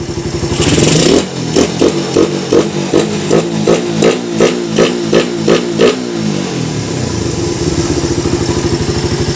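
A motorcycle engine fitted with a Nibbi 30mm roundslide carburetor, blipped in a quick series of sharp, rhythmic throttle revs up close, each rising and falling, before it settles back into a steady idle.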